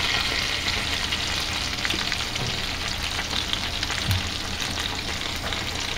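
Sausage and cabbage frying in a pot give a steady, dense sizzle with faint crackles and occasional stirring scrapes, close by and continuous.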